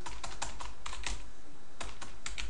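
Rapid, uneven bursts of clicking keys on a computer keyboard, close and clear, with short pauses between runs of typing and no voices.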